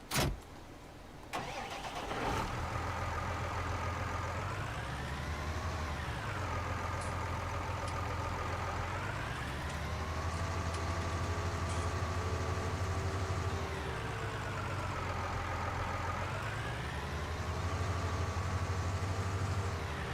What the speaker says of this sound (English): I'm going to borrow this tractor to go get the water